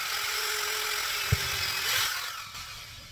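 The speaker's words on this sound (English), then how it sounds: "Right now I'm just using a drill to drill the hole, the guide hole, before I do the screw." An electric drill bores a guide hole into an RV floor before a screw is driven, a steady whining hum running throughout at moderate level with a short thump partway and a slight rise in pitch near the end.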